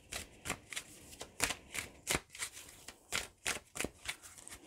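An oracle card deck is shuffled by hand in a steady run of crisp, rhythmic riffling bursts. The sound is close, with no talking.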